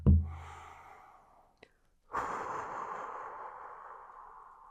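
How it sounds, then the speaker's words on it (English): A slow deep breath taken during a guided breathing exercise: a soft drawn-out airy exhale after an initial thump, a pause, then a longer steady breath that fades gradually, quiet and close. "But first, a deep breath."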